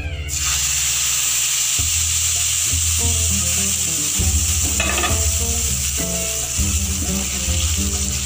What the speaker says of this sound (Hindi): तड़के के लिए हमें 4 से 5 लाल मिर्च चाहिए और सफ़ेद ज़ीरा। ये गरम ऑयल के अंदर डालेंगे।